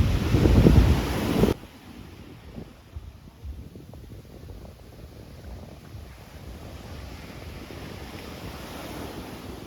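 Strong wind and surf on Chaweng Beach, Koh Samui, Thailand: a heavy gust buffets the microphone at the start, then steady wind rush and breaking waves continue as a broad, even roar.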